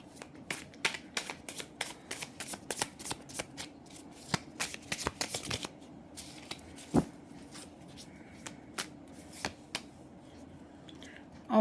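Tarot cards being shuffled by hand during a reading, a long run of rapid crisp riffling flicks and taps, close and fairly quiet, settling into sparser card snaps with no voice over them.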